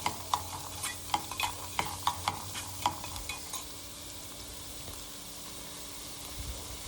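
Raw peanuts and salt are stirred in a pan, giving a quick run of close, rhythmic scraping strokes over a steady soft sizzle, with the stirring fading after a few seconds and the hiss continuing.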